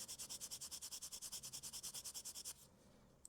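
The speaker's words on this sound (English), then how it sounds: "Just get the old nail buffer on it." A nail buffer rubs back and forth across the back of a wire-wrapped pendant, filing down sharp cut wire ends. About twenty rapid, even strokes sound close and dry before the rubbing stops.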